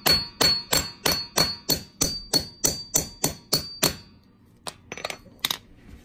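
A cheap garage-sale hammer drives a center punch through a coin-ring workpiece, with about twelve sharp metallic blows in a steady rhythm, close and clear, then a few lighter clinks after a pause.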